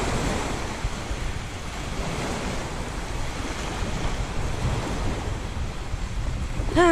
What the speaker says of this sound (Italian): C'è solo il suono del mare